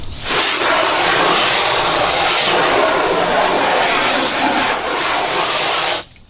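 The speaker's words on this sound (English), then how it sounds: "first I'm going to take my garden hose. I'm going to rinse the wheel well" A garden hose sprays water hard into a car's wheel well while cleaning wheels and tires, a loud, steady hissing rush that runs almost without a break for about six seconds before cutting off abruptly.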